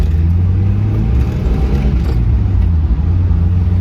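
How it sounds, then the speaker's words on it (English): A modified Mazda Miata's engine idles in a low, steady rumble with a slight uneven wobble as it hesitates after throttle from idle, heard close and continuous without speech. "I press the throttle from idle and it just like, it hesitates, it wants to die."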